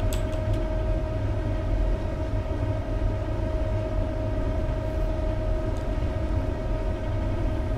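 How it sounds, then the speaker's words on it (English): A Class 390 electric train runs steadily in Train Simulator 2017, a constant low rumble with a sustained tonal whine, loud and unbroken with no talking. "Nice to drive a Class 390 on the Rivera Line."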